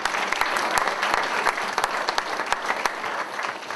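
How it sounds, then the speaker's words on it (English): An arm-wrestling event audience applauds a wrist-wrestling competitor, with dense, steady clapping and sharp individual claps throughout, fairly close and loud, with no voices. "Let's give him a round of applause."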